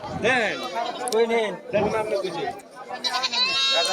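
Billy goats bleat loudly and repeatedly at a busy livestock market, wavering calls overlapping one another close by amid crowd chatter.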